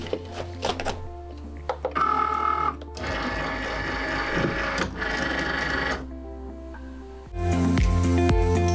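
Cricut cutting machine cutting vinyl for a screen printing transfer: buzzing motor runs in bursts of several seconds, separated by short whirs, clicks and pauses as the carriage moves, close and fairly loud, no talking.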